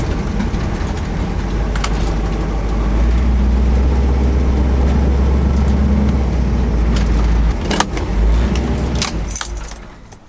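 A camshaft-modified Chevy C10 pickup truck drives along, its steady, loud low engine rumble and road noise continuing throughout, with a few brief clicks and rattles near the end as it slows.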